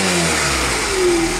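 A Honda Rebel CA 125 motorcycle engine revs up and settles, its tone rising and falling steadily with no voices, close and fairly loud.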